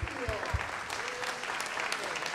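An audience breaks into applause for a musical guest at a folk music concert, with a few strong close claps at the start and then a dense, even wash of clapping.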